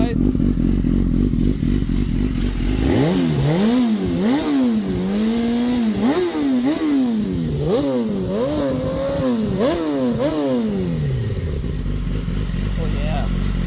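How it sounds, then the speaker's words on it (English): A superbike engine running on race fuel idles, then is blipped through a series of sharp, close, loud revs that rise and fall in quick succession before settling back to idle. "Gotta get that race fuel out, give it a few little revs, guys."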